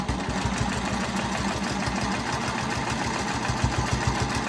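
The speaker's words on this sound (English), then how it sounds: "I'm just going to make my arc, stitch my arc here" A sewing machine with a ruler foot stitches an arc in fabric, a fast even needle chatter running steadily close by throughout, with no talking.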